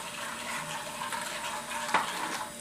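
Brown sugar being stirred into a sauce in a pan, a soft continuous scraping and liquid swish with a brief louder clink near the end, steady and close with no talk.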